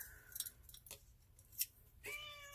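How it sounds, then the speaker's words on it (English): Scissors snip paper in a handful of quick, crisp close-up cuts spread over a couple of seconds, with quiet pauses between them and a brief high squeak near the end. "We have scissors."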